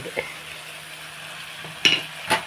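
A spoon stirs a carrot, potato, bean and tomato vegetable curry in a pot, giving a few short scraping knocks over a steady low background hum.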